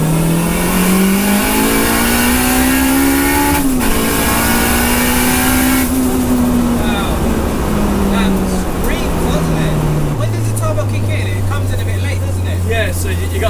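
Turbocharged Honda Civic Type R EP3 with VTEC, around 420 bhp, revving hard on a dyno, engine note climbing steadily then dropping to a lower steady pitch, loud and continuous with people talking over it.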